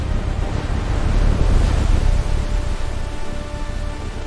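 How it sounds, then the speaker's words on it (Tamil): Water rushes in for a children's cartoon about ants, a loud, steady surging wash like surf or a flood that swells early and then slowly eases, alone with no voices. "தண்ணீர் உள்ளே வருகிறது."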